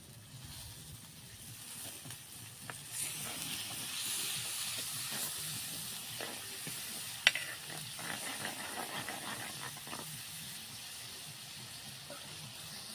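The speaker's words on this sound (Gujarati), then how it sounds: "આપણે આમાં થોડુંક પાણી નાખશું જેથી મસાલા આપણા બળે નહીં" Water is added to turmeric, coriander-cumin and salt masala frying for stuffed okra over a rustic clay stove, giving a soft, continuous sizzle and hiss with light stirring and one sharp clink midway.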